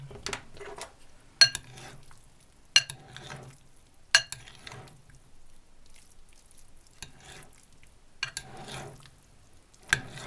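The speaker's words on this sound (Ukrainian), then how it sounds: "Ретельно перемешаем, перемішаємо. Зараз, ложкой." A spoon scraping and clinking against a bowl at intervals while mixing eggplant salad, with soft wet stirring sounds in between.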